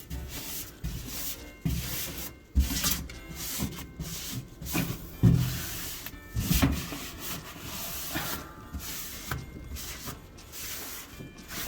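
Scrubbing with the rough abrasive side of a cleaning sponge against stuck-on grime, a close, uneven rubbing scrape in repeated strokes with short pauses between bursts, no talking.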